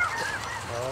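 Snow geese honk from a flock overhead in calm, windless conditions, loud and near. The calls are continuous and overlapping, with a thin background of more honking birds behind them.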